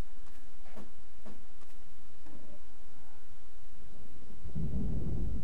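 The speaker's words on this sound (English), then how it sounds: "it's just raining and thundering" Thunder and rain in the Garry's Mod video game: a steady rain hiss with low rumbles, building to a loud thunder crash near the end, with no talking.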